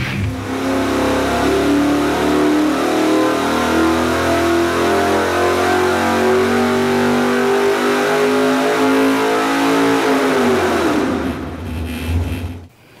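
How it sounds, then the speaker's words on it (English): Small block Chevy stroker engine, naturally aspirated, running on a dyno: a loud, sustained roar climbing steadily in pitch for about ten seconds, then quickly winding down. "So the plan is run the motor normally aspirated, install the blower, and build that boost."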